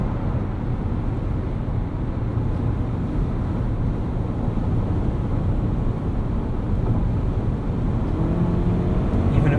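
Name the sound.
2019 Toyota RAV4 Hybrid drivetrain at full throttle, interior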